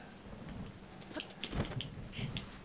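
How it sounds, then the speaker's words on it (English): Steady rain with rumbles of thunder in the video game Breath of the Wild, a continuous hiss of downpour broken by a few louder crackling bursts near the middle, with no talking. "Ow, rain."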